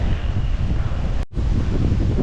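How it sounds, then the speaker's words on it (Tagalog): Strong, cold wind on a mountaintop during a cycling trip in General Nakar, Philippines, buffeting the microphone in a loud, continuous roar, with a momentary drop partway through before the gusting resumes. "Saka ang lakas ng hangin at ang lamig"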